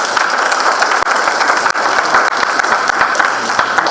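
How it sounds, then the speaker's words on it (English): Loud, full applause from an economic forum audience, a dense wash of many hands clapping that stays steady and close for the whole stretch, with no talking. "So I do want to make you give a round of applause"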